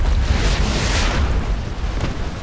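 An enemy ship explodes and sinks in the naval video game Warship Mobile 2, a dense roaring blast with deep rumbling that stays loud throughout.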